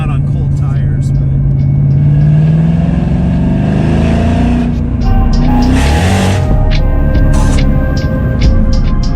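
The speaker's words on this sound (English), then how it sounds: "picking up the Boss 302 over here from Bread's shop right in Seattle. We just got the cams done" A cammed Ford Mustang Boss 302 engine revs loud and close, its pitch sweeping and rumbling steadily throughout in cold weather, with a voice talking over it.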